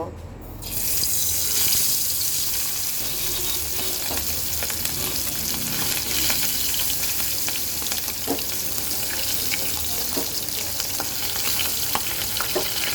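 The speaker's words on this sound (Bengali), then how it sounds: "মাছ ভাজার জন্য আমি কড়াইতে তেল গরম করতে বসিয়ে দিয়েছিলাম এখন আমি মাছটাগুলো দিয়ে দেব" Tengra fish dropped into hot oil in a wok burst into a loud, continuous sizzle after a brief quiet moment, with crackling pops running steadily underneath.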